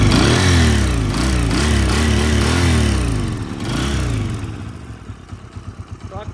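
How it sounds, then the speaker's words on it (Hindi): A Honda CG125 motorcycle engine revs repeatedly in loud rising and falling surges, then settles into a clattering idle with rhythmic putters, close by. "अब मैं थोड़ी रेस देता हूँ"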